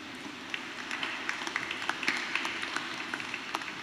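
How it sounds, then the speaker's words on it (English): An audience at a clergy renewal gathering claps for the chancery staff: a scattered, moderately faint patter of hands with distinct individual claps standing out, continuing throughout without talk. "Let's clap our hands for them."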